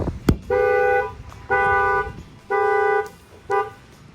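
Factory alarm on a Nissan GT-R, set off by a hit on the window, blares in four loud, evenly spaced electronic honks about a second apart, preceded by a sharp thump.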